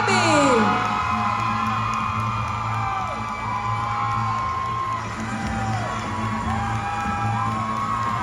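Pageant audience cheering and applauding during the Miss Universe Jamaica 2024 top-five announcements, a loud steady crowd roar with whoops and shouts lasting throughout.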